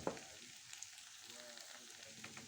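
Peppers fry in a pan at home, a soft steady sizzle with a small clink at the start and faint crackles, fairly quiet and alone.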